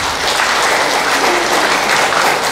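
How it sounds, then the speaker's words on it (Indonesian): A church congregation at a revival meeting in Semarang cheers and claps for Jesus, a loud, dense, steady wash of applause and crowd noise filling the space from start to finish. "Berikan sorak-sorai buat Yesus."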